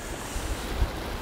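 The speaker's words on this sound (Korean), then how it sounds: "바람도 완전 겨울 바람이 불어오는" Cold winter wind gusts across the sea near an offshore island fishing spot, a loud, steady roar of wind buffeting close against the microphone with low surf rumble beneath and no talking.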